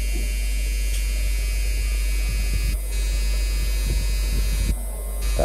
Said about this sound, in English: satu kita pakai trimmer